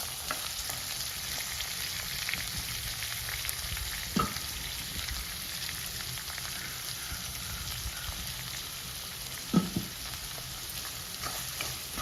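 Shallots sautéing with salt in a pan for a Kerala-style tomato curry, a steady close sizzle and fry hiss running throughout, with a couple of soft spoon-stirring knocks and no talking.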